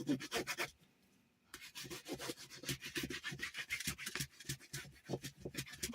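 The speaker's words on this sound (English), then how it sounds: "give this a really nice burnish" Paper being burnished onto chipboard for a small craft clipboard: steady, close, rhythmic rubbing strokes with a dry scratchy texture, broken by a short pause near the start before the strokes resume and continue.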